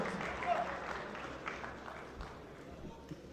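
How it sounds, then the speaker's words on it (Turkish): A crowd applauds steadily in a large hall for two fighters at a cage fighting event while a voice talks over the sustained clapping. "İki sporcuyu da alkışlıyoruz"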